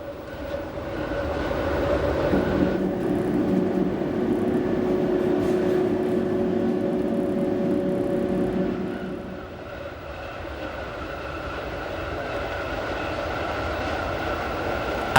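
Glacier Express train rolling along the Albula line between Bergün and Preda, a steady rumble of wheels on rails with a tonal hum that holds loud for about nine seconds and then eases to a softer, continuous roll.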